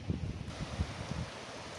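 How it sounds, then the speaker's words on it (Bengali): Wind blowing steadily across a high hilltop viewpoint in Ooty, about 1200 feet up, with a low rumbling buffet on the microphone and a few gusty swells, heard alone. "কি হাওয়া দিচ্ছে দেখো এই জায়গাটা শুধু হাওয়া কি দারুণ হাওয়া দিচ্ছে রে"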